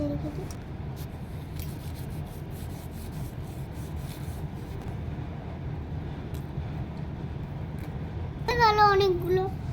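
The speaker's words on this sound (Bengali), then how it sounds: "এবার কুমড়ো শাকটা কাটো।" Pumpkin leaves are cut in a home kitchen, a soft continuous rubbing and chopping texture with faint taps, and a voice speaks briefly near the end.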